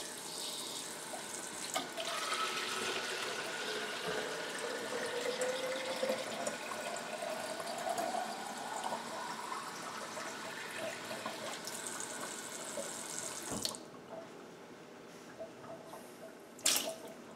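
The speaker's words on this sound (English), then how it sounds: "I'm going to go ahead now and fill up this bottle with water" Water from an artesian well runs steadily from a tap into a bottle for a long stretch, the pitch slowly rising as it fills, then stops abruptly with a final clink.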